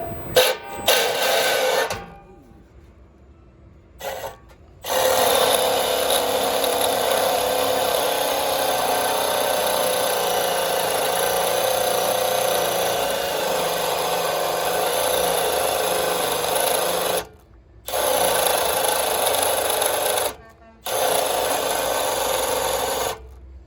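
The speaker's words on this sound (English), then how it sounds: "now we're going to use an impact or any other drill" A cordless impact driver or drill cuts through a metal shaft in long, loud, rasping grinding bursts broken by a few brief pauses, close up and without talk.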